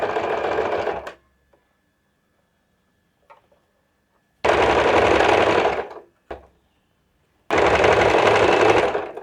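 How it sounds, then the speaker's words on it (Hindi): Domestic sewing machine stitching the hem of a kurti in three loud, close bursts of rapid, even mechanical rattling, with short quiet pauses and faint handling clicks in between. "मशीन चलाना चाहें तो मशीन चला लें इस तरीके से।"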